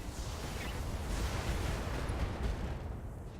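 Mech weapons in the BattleTech tactics game unleash a dense, continuous roar of rumbling blasts and crackling impacts, loud and sustained for several seconds with no voices.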